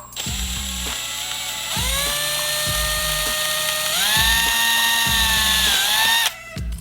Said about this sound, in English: I'm just going to drill my hole.